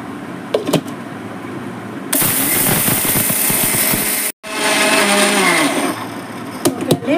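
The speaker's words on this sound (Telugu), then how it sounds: "ఇప్పుడు వీటిని మిక్సీ వేసుకున్నాం" A mixer grinder pulverizes roasted black horse gram and sesame seeds, a loud continuous whirring roar that starts abruptly, stops for a moment and kicks back in, with quieter rattling before and after.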